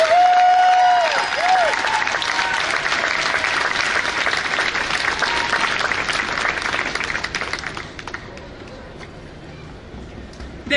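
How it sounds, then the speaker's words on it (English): An audience at a festival event in Ann Arbor, Michigan claps loudly and continuously in a dense wash of applause, with a few whoops early on, before the clapping thins and fades toward the end. "Let's give him another round of applause for sharing his story"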